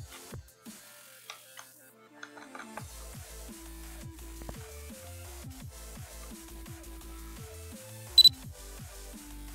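In a video game, a camera shutter gives a single sharp, brief click near the end, over steady, quiet electronic tones and pulses.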